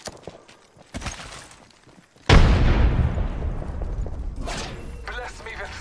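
A frag grenade going off in the Apex Legends video game: a sudden loud blast after quieter gunfire and movement, followed by a long rumbling decay with more shots and a voice speaking nearby.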